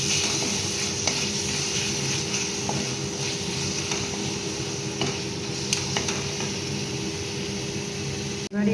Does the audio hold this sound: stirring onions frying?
yes